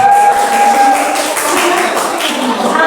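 A group of students claps hands together in a classroom quiz session, a steady, dense patter of clapping heard up close alongside some voice.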